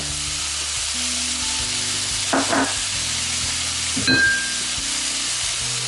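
Chopped shrimp stir-frying in hot oil in a pan for a spicy Thai basil dish, a loud continuous sizzle and hiss with two brief bursts of spatula stirring, no talk.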